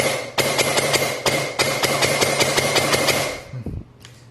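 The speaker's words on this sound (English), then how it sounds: "I'll go ahead and shoot it in semi-auto full auto" Custom airsoft AK SBR rifle firing, a rapid close series of sharp mechanical cracks in a fast rhythmic burst lasting a few seconds, ending with a brief thud, with no talking.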